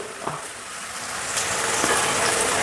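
Shallots tipped into a hot pan while chicken liver roast cooks, giving a steady broadband sizzle of frying that holds evenly throughout, with a faint knock near the start and slight swells partway through.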